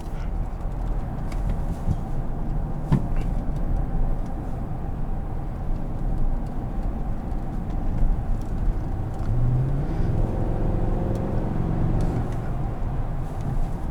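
A 2014 Chevrolet Silverado 1500 LTZ pickup with a V8 drives on the road, giving a steady, loud low engine rumble and tire noise from inside the cab, with a brief rise in engine pitch near the end.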